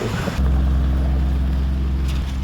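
An old gas tractor engine starts up and runs with a steady low chugging drone, loud and close, holding an even idle, at an old-fashioned farmers' days show.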